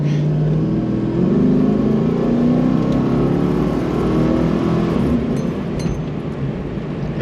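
LS-swapped Jeep Wagoneer V8 revving hard during a burnout, loud and close, the engine note climbing and holding at high revs with a sustained roar and tire-spin whir.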